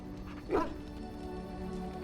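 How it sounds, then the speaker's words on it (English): A single short dog bark or yip in Dragon Age: Origins sounds once over steady game background ambience. "That dog! Mangy mongrel."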